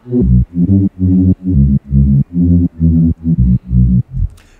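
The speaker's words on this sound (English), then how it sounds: "So the bass on its own sounds like this." Speed garage bass synth preset played alone, a run of about ten loud, punchy harmonic bass notes in a bouncing rhythm with short gaps, close and dry with no voices.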